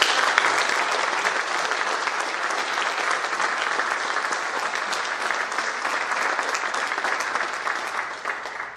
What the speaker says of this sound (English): Ladies and gentlemen, can we have a round of applause for our Scholastic?